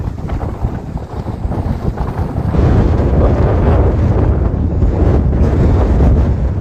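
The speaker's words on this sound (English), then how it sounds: "And how about that wind?" Strong wind gusts roar and buffet the microphone in a sandstone wash at Fisher Towers near the Colorado River in Utah; loud, low and continuous, growing heavier partway through, with no voices.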